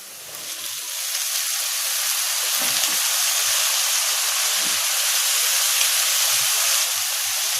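Chopped green onion leaves for a thoran hit a hot pan, setting off a loud, steady hiss and sizzle that swells within the first second and holds evenly, with a few soft stirring knocks and no speech.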